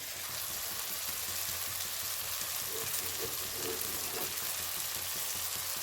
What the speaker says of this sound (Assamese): এতিয়া উতলাই ৰখা পানীখিনি দি ল'ম তাত